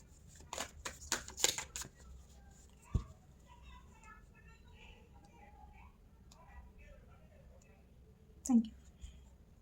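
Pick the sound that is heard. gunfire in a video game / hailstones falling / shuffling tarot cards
shuffling tarot cards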